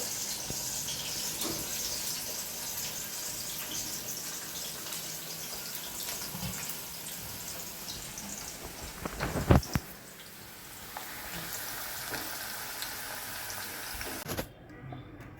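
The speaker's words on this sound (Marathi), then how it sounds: "हे आपण आता तळून घेतोय. लो टू मीडियम हीटवर आपल्याला हे तळून घ्यायचे." Jackfruit chips fry in hot oil over low to medium heat with a steady hiss and crackle. A brief clatter comes about two thirds of the way through, and then the frying carries on, close and with no talk.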